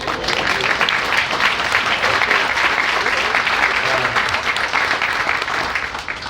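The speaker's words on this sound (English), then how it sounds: "That deserves a round of applause" A large audience at a legislative business brunch bursts into sustained applause, a loud, dense wash of clapping that holds evenly for several seconds and fades a little at the end.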